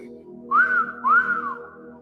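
Two rising-and-falling whistled notes from a person, each about half a second long, heard close and clear over a faint hum, with no talking.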